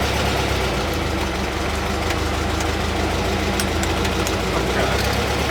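A vehicle engine runs with a steady low rumbling drone while the vehicle backs out without mirrors, and a person talks over it.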